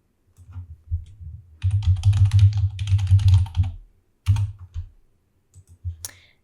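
A name is typed on a computer keyboard in short bursts of rapid, close keystrokes. Quiet pauses fall between the bursts, and a few single taps come at the end.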